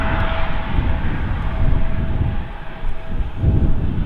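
A CRJ regional jet touches down at Manchester Airport, its engines and rolling roar forming a loud, steady broadband rush that swells and dips slightly throughout, with no voices.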